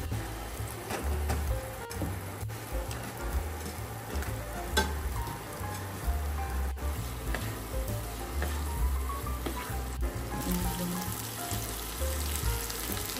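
Masala spices sizzle and fry in hot oil for pav bhaji, with a steady crackling hiss throughout and occasional stirring scrapes.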